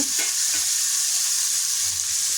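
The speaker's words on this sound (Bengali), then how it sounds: "একটু ভাজা ভাজা করে নেব, একটু নাড়াচাড়া করব।" Potatoes sizzle in a hot pan while being turned for a sabudana dish, a dense, even frying hiss with a few soft stirring scrapes, brief and close.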